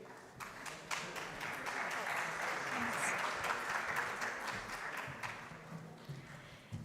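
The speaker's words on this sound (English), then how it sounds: "A big applause." Audience at a startup pitch competition applauding, a dense sustained round of clapping that swells and holds, fairly distant and soft, with a voice faintly over it.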